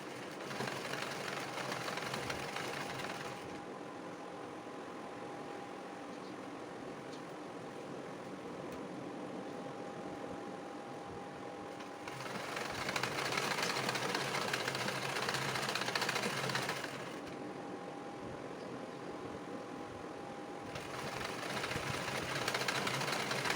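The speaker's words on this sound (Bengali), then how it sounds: "প্রথমে লক স্টিচ দিয়ে সেলাই শুরু করব তারপর সেলাইয়ের শেষেও লক স্টিচ করে দেবো" A sewing machine runs in steady bursts while stitching a petticoat seam with lock stitches, a close whirring hum that rises and falls between runs, with no talk.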